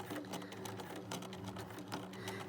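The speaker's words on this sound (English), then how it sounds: "Now we're trying to sew as close to the edge as we possibly can" Sewing machine stitching close to the raw edge of appliqué fabric, a fast, even mechanical chatter of the needle running continuously at a slow, steady pace, close and fairly quiet.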